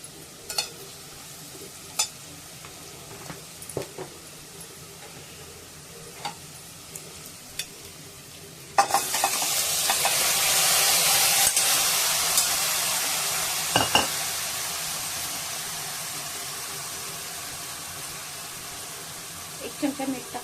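Mutton head pieces stir-fried with turmeric and salt in a pan: quiet clinks and stirring at first, then a sudden loud sizzle that slowly fades, with occasional utensil knocks and some talk.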